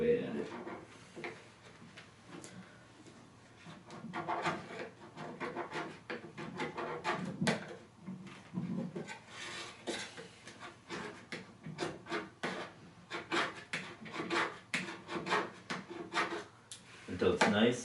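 A sharp scraper works slowly across a snowboard base during repair, giving uneven rasping strokes in an irregular rhythm, fairly quiet and close, with a person talking over the scraping.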